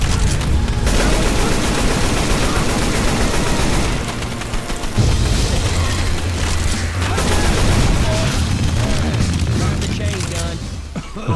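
Rapid video-game gunfire crackles almost without pause, volleys of shots and booms piling up in a dense, loud barrage with shouting voices mixed in.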